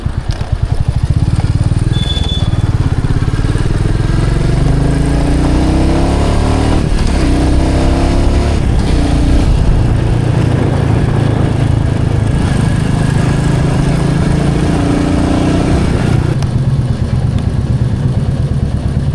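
A Royal Enfield Meteor 350 motorcycle on a night ride, its engine droning loud and steady throughout with shifting pitch from throttle changes and road and wind rumble, heard close from the rider's position.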